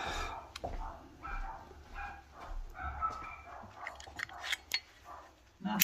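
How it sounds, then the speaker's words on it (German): Several dogs bark excitedly in quick, uneven bursts, fairly near and at moderate volume, with some yips mixed in and a faint voice underneath. "Die Hunde flippen gerade aus."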